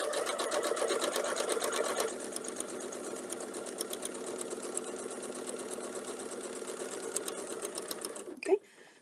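A sewing machine stitches a quilt in a steady, fast run of needle strokes that carries on alone and close, then stops with a brief clunk near the end.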